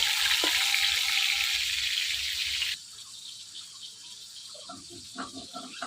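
Shol fish frying in hot oil in a pan for a traditional Bengali curry: a loud, dense sizzle that drops suddenly to a quieter crackle, with scattered small pops toward the end.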